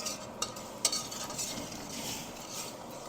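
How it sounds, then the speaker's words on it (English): Food frying in a pan gives a steady sizzle, broken by a couple of sharp utensil clinks against the pan early on, close and fairly quiet with no voices. "Let it fry until it's done."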